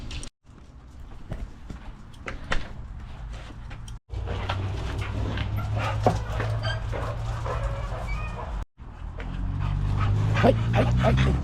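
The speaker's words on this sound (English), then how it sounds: "This is my neighbor's dog." A neighbor's dog barks and whimpers outdoors at a trucker's stop, loud and close, with yips and whines recurring over a steady background rumble.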